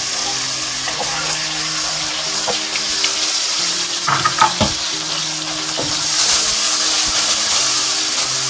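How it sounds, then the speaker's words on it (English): Onion, tomato, chili and ginger frying in a pan, a loud continuous sizzle with stirring clatter and a few sharp knocks, growing hissier toward the end. "it's getting fried"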